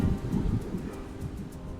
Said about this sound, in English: It's much too windy for that